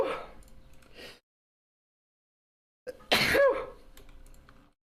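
A single sharp sneeze bursts out after a short silent gap, loud and close, with faint background talk and gaming chatter before and after it.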